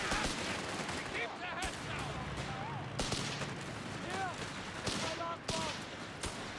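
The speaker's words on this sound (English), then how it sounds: "early mortar from FeriG" Mortar shells and rattling gunfire from a Company of Heroes 3 team battle, a dense, continuous barrage of sharp bursts and thuds over a busy battlefield din, with some talk mixed in.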